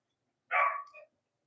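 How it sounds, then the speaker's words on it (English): A single short dog bark, clear and fairly close, heard alone against silence. "Dogs bark like that."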